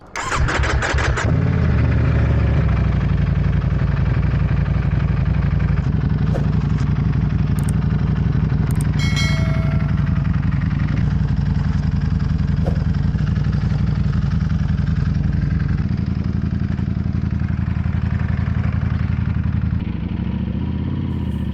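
A rebuilt Ducati V4 motorcycle engine starts and then runs at close range on a track test day, with a loud, steady, rough mid-pitched drone and slight revving changes throughout.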